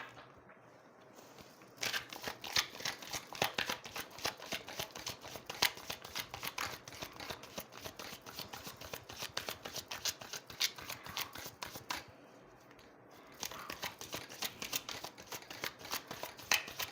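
Tarot cards are shuffled and drawn in a steady run of crisp, rapid riffling and flicking, close and fairly loud, with two short pauses, and no talking.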